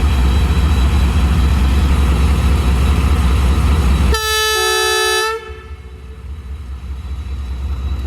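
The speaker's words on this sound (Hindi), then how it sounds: "फाइनल विसल के साथ ही ट्रेन ने आहिस्ता आहिस्ता मूव होना शुरू कर दिया।" A loud rolling rumble of the Sir Syed Express (36DN, Rawalpindi to Karachi) fills the first seconds, then a single sustained horn blast rings out for about a second before the sound drops to a quieter, steady hum as the train begins moving.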